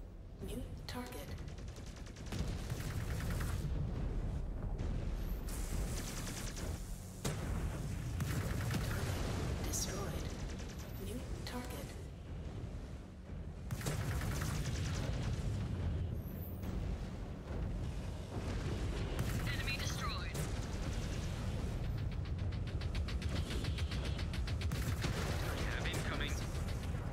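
Dense video-game combat from Mechwarrior 5 Clans: continuous weapons fire, machine-gun bursts and booming explosions run almost without pause at high volume, with brief dips, and a voice occasionally speaks over the battle.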